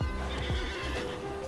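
A horse whinnies in the Alicia Online video game, a loud stylized neigh with a sharp onset followed by a wavering, descending whinny, heard close and alone.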